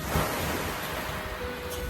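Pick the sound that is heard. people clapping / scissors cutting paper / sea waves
sea waves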